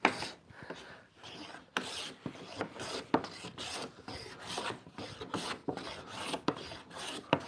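Lie-Nielsen No. 62 low-angle hand plane taking shavings off wood: a run of close, crisp rasping strokes in an uneven rhythm, each a short scraping swish with brief pauses between, no voices.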